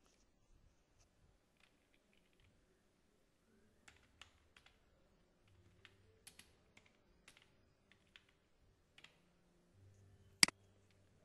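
Someone types on a computer keyboard while filling in an online birth certificate application. The keystrokes are sparse, soft and scattered, with irregular pauses and one sharp louder click near the end, in a quiet room.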